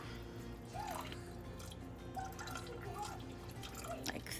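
Water added to a pot while cooking Mexican rice, heard as a handful of faint, scattered drips and small splashes against a low background hum.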